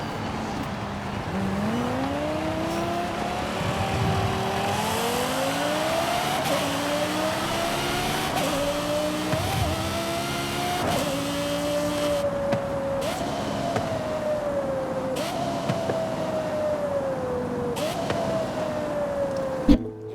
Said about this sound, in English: let me mute my mic, let you guys listen to this engine note